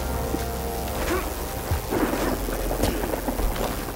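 Steady rain with rumbles of thunder in a rainy English level of the video game Tomb Raider Legend, a continuous downpour with low rolling booms, heard alone without talk.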